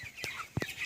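Young broiler chickens on a poultry farm give short, soft clucks and chirps, a few brief calls close by within under a second.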